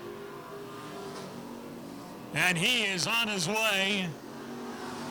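Street stock race cars roar off turn four on an oval track, a loud engine howl surging and climbing in pitch for under two seconds before fading, with an announcer calling the race throughout.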